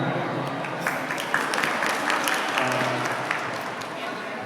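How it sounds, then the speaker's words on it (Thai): A congratulatory ceremony audience for doctoral and master's graduates claps steadily, a dense, fairly close round of applause with sharper individual claps poking through, sustained across the whole stretch. "ขอเสียงปรบมือหน่อยครับ"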